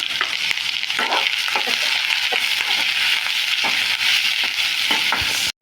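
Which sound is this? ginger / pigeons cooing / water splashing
ginger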